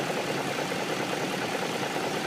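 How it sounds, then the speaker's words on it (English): Older car engine idling with a steady broadband hum and a slight internal grinding, loud and continuous throughout with no other sounds. "there's almost like a tiny little bit of grinding noise inside the engine"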